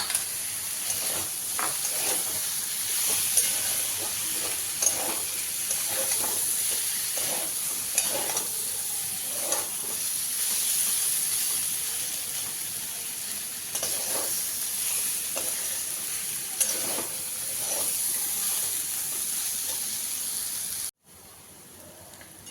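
Pumpkin fries with potatoes and spices in a pan for a Bengali kumror chhokka, a steady sizzle and hiss broken by repeated scraping stir strokes, with no talk, ending in a sudden cut.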